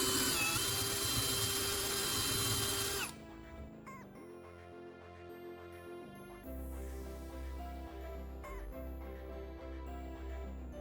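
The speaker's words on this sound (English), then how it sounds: "I'm using my drill to create a hole in the center of the wood" A power drill bores a hole into the center of a wooden base, a loud high whine for about three seconds, then stops; quieter clicks, handling noises and a low hum follow.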